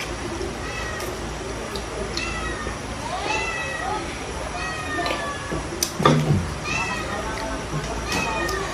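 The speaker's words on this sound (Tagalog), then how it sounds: "May pusa." A cat meows repeatedly in a home kitchen, several drawn-out calls close by, mixed in with a person talking.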